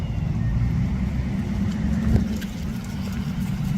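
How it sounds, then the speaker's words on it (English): Parked police car left running, its engine a steady low idle rumble throughout, close by and fairly loud, with a faint brief tap partway through. "His car is literally on still."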